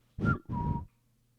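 A person whistles two short notes in turn, mimicking a couple whistling back and forth to each other, close and clear, then quiet.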